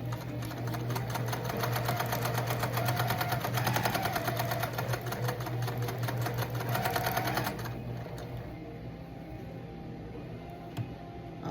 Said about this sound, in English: you're going to sew a 1/4 inch on each side of the line